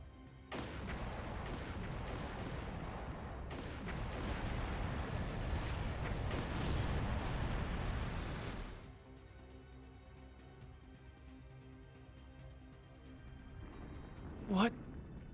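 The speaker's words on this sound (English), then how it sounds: "Confirming source of gunfire." Rapid video-game gunfire and heavy booms rumble through a city battle scene for several seconds, loud and dense, then fade to a quieter murmur of background noise with a brief sharp whoosh near the end.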